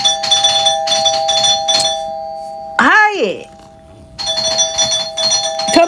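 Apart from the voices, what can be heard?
doorbell ringing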